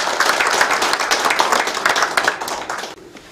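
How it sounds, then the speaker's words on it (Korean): Audience at a 2022 town-hall meeting with the mayor in Yulmyeon breaks into dense, steady clapping that fills the room, then cuts off abruptly near the end. "시장님한테 고맙다고 박수 한번 쳐주시기"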